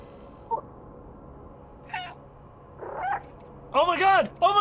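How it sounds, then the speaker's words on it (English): The cat in the video game Stray meows several times, short rising calls that grow louder and more insistent toward the end over a quiet background. "I'm just standing on a dead corpse meowing to assert dominance"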